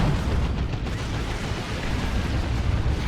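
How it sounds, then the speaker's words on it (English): A heavy bolter fires continuously in the video game Dawn of War 2, a dense, loud barrage of overlapping booms and bursts with rumbling low end and no break. "Heavy bolter now doing its thing."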